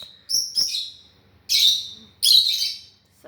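Hormonal pet parrots let out to fly at home give shrill, close chirps and squawks in three loud bursts, separated by short quiet pauses.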